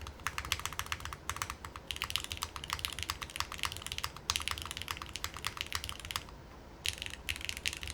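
Rapid mechanical keyboard typing on a Mode Encore fitted with Boneyard switches and a carbon fiber plate, a steady stream of light, crisp clacks close up with brief pauses and no talking.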